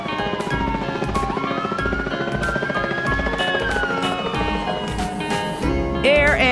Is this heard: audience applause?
no